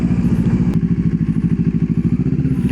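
A motorcycle rides along with its engine pulsing in a fast, regular beat, loud and close under wind noise, with one brief clatter early on.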